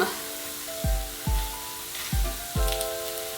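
A tortilla fries in oil in a pan, giving a steady hiss with four evenly spaced bursts of louder sizzling, each swelling up and then settling back.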